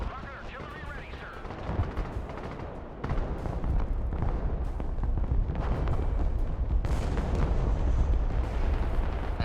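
HIMARS rocket artillery fires during a Broken Arrow match, a series of heavy booming launches and blasts that grow denser and louder, rolling over a continuous roar of battle noise.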